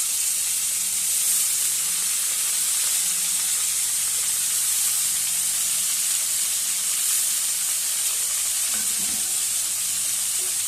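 Cut yam leaf stems and potato sizzle in a hot pan with garlic, a loud, constant frying hiss that stays even throughout, with a brief stirring clink near the end and no voices.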